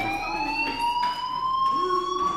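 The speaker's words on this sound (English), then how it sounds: "do you hear that fire alarm?" A fire alarm in a video game sounds a continuous, moderately loud electronic tone that slowly rises in pitch, with faint softer noises beneath it.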